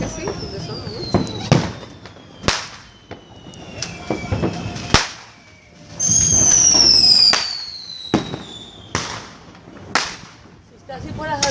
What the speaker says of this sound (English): It was TNT fireworks.